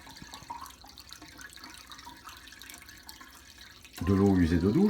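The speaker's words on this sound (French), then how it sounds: "J'ouvre le robinet" A tap is opened on a shower greywater recovery kit, and water suddenly starts gushing loudly after a quiet stretch of faint background noise.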